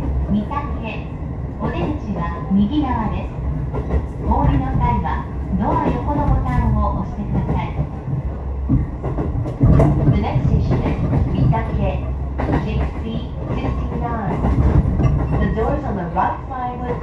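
Japanese local train on the Ome line, riding between Hatonosu and Ome, rumbles steadily and continuously near the listener, a low running roar with faint rail clatter, partly under onboard announcements.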